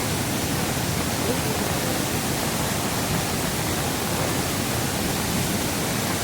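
Floodwater from a monsoon-swollen river in Konkan rushes and roars in a steady, loud broadband wash that holds from start to finish with no break.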